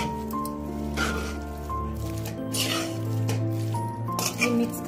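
Raw chicken and vegetable kebab mixture is squished and kneaded by hand in a bowl, giving soft wet squelches and small clinks over sustained background music.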